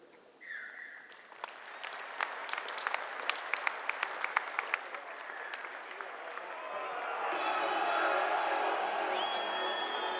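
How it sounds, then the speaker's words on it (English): Stadium crowd at an Oldham versus Toulouse rugby match giving a minute's applause in tribute to Bill Minton; clapping builds into a broad, sustained roar, with a few loud distinct claps and whoops early on. "please stand for a minute's applause, which will begin and end on the referee's whistle as we pay tribute to Bill Minton"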